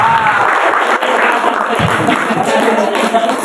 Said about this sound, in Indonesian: Tepuk tangan untuk regu A.